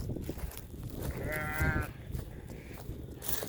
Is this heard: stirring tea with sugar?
no